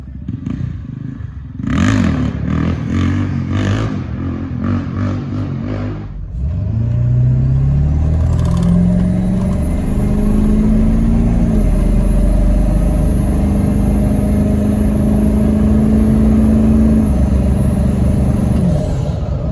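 A 7.3 diesel in a Ford Excursion, fitted with new up pipes and an EBPV delete, cranks after some clattering and settles into a loud, steady close-up idle with a faint high whine.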